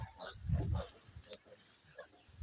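Low, rough grunts from pigs, a heavy burst near the start then a few shorter snorts, fairly close with some background noise.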